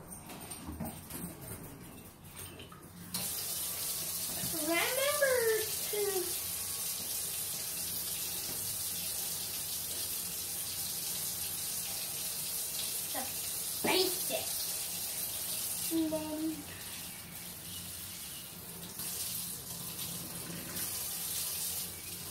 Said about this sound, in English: what about maybe turning the water off so the water bill's not insane?